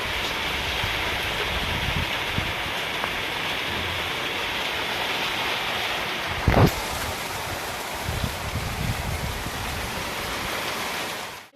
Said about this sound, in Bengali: ভালোই জোরে বৃষ্টিটা এসছে